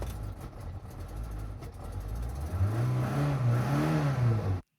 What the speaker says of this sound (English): we don't actually hear the full engine rev. We still hear it's trying to start up